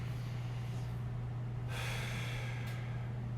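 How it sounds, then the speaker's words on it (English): A slow, deep inhalation during an ankle and hip mobility stretch, heard close up as a soft airy rush over a steady low hum. "I'm going to take a nice deep breath in"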